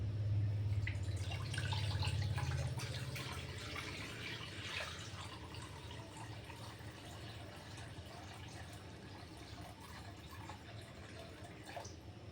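Water pours steadily into a container for making sugar syrup, a continuous splashing stream that softens gradually as it fills, with no talking.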